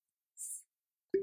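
A vacuum stopper is released from a wine bottle: a brief hiss of air followed a moment later by a short, resonant pop, close and clean in otherwise silent surroundings.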